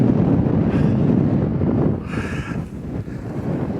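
Wind buffeting a microphone at an exposed bivvy campsite in Wharfedale, a loud continuous roar with gusts rising and falling throughout, no voices.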